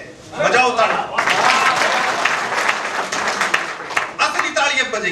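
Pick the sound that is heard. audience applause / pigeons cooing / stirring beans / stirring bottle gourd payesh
audience applause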